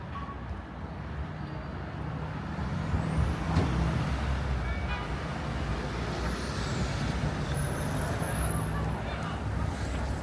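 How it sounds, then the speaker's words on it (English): A Q18 city bus in Queens, New York, sounds close by with a steady, loud engine and road rumble. A brief hiss and squeal like air brakes comes through amid general street noise, and there is no clear speech. "This is the Q18 bus to Maspeth, Queens."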